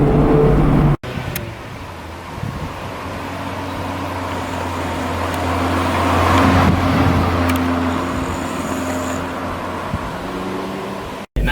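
A 2017 Mazda MX-5 Miata RF hardtop convertible being driven through corners, heard from inside as a steady engine drone with tyre and road roar that swells in the middle and eases off, with brief cutoffs at the start and end.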